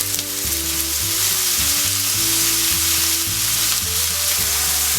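Soy sauce hits a hot pan of stir-frying carrots, sending up a loud, continuous sizzle and crackle over a low steady hum, with no voices.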